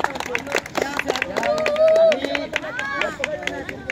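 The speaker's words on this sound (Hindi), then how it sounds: "जोरदार ताली फरहान भाई के नाम पर।" A crowd claps and cheers for a player named Farhan at a village kabaddi final in Hathiya Garh, with dense clatter of applause mixed with loud shouting voices and babble throughout.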